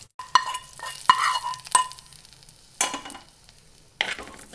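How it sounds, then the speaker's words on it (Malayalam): Mustard-seed and curry-leaf tempering being stirred into stir-fried vegetable upperi in a pan, several sharp scraping strokes over a soft continuous sizzle, close and fairly quiet. "എല്ലാം കൂടി നല്ലോണം മിക്സ് ചെയ്ത് കൊടുക്കാം."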